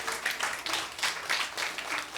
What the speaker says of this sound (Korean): 자, 박수 축하해요